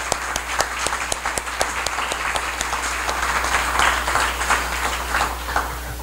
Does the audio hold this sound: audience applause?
yes